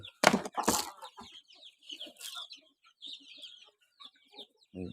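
Chicks cluck and peep in short, scattered calls close by while being fed, with a few louder bursts and quiet gaps between.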